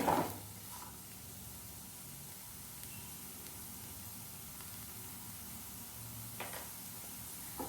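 Capsicum and cabbage fry in a pan for restaurant-style chicken fried rice, giving a steady, faint sizzle with a few soft stirring scrapes near the start and end.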